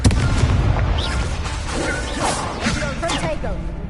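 In Hogwarts Legacy on PS5, an Incendio fire spell bursts out with a whooshing blast amid ongoing combat effects, loud and close, while a voice speaks over it.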